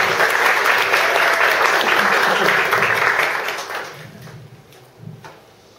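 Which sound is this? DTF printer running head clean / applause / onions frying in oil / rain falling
applause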